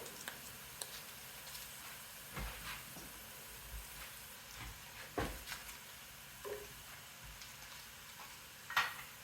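Vegetables and stock cubes going into a hot pot while cooking collard greens, giving a faint, steady sizzle and hiss with scattered soft clinks and stirring knocks.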